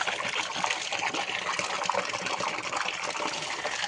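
Water poured over a person at a farm, a steady splashing gush that runs continuously for a few seconds, close and fairly loud, with no voices over it.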